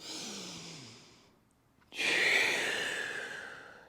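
Breathing during an energy breathing exercise: a close, airy exhale fades out, a brief pause follows, then a sharp, strong inhale through the nose swells and holds, with no talk over it.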